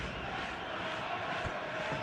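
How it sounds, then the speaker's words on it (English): Stadium crowd before a football video game match, a steady, dense murmur of many voices, a continuous wash without distinct shouts. "There's a real expectant buzz in the stadium"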